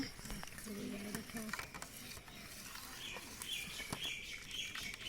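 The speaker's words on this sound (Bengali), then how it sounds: "একটু দুধ দিয়ে আমি ভালোভাবে এরকম একটা হাতা দিয়ে ঘুটে ঘুটে গুলে নিচ্ছি" Milk is stirred with a ladle to work out lumps while making mishti doi, a continuous scraping, swirling sound with faint chirps in the background and no talk.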